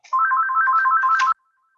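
A phone ringtone plays once, a fast warbling electronic trill of a little over a second that is loud and close, then stops abruptly into silence.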